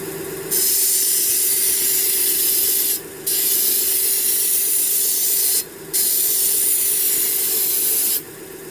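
A Vevor 1x30 belt grinder running at about 1500 RPM sharpens a knife blade in three long hissing passes, each stopping briefly, over the machine's steady motor hum.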